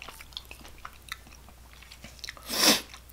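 Close, quiet chewing of cheesy Samyang instant ramen noodles, with soft wet bites and squishes scattered throughout and one louder crunchy bite near the end.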